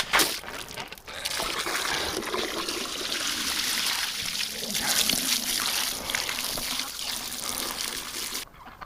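Water trickling and splashing as it is poured for ducks in a winter pen, a steady liquid stream running for several seconds close to the listener, with no talk over it.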